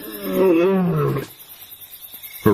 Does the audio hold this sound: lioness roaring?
yes